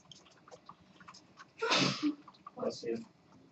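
A single sharp sneeze bursts out in a lecture room, loud and brief against quiet background murmurs and faint speech.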